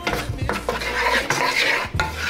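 Mushrooms are stirred in a cooking pan over low heat, repeated scraping strokes of a utensil against the pan in an uneven rhythm, close and moderately loud over a light sizzle.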